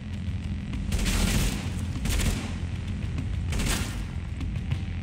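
Three heavy gunshot blasts from the video game Tom Clancy's The Division boom out, spaced a second or so apart, each trailing into a low rumbling echo over steady background noise.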